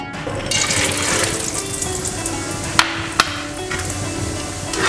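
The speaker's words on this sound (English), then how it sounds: "So just be careful when you're frying peanut," A steady hiss and crackle of peanuts frying in hot oil continues throughout, broken by a couple of sharp clicks.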